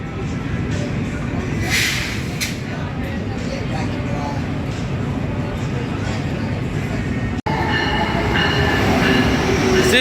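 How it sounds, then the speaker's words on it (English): An Amtrak train at Trenton Transit Center, a loud sustained rumble of rolling wheels with some squealing and clatter, close and continuous. "And the Amtrak train should come any minute."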